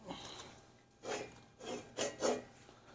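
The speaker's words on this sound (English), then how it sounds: "It is cutting all the way across the bed knife." Repeated rasping swishes from the blades of a 25-inch McLane seven-blade GR series reel mower cutting across the bed knife, a series of four short, close passes with quiet gaps between them.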